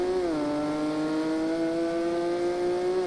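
A race vehicle's engine drones steadily on the straight, a loud, even motor tone that dips briefly at the start and then holds nearly constant revs, with no talk.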